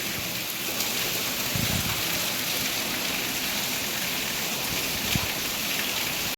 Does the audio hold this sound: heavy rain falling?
yes